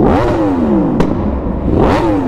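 Motorcycle engine revving up and down in two sweeping bursts, loud and close, with a sharp thump near the middle, on a ride-along.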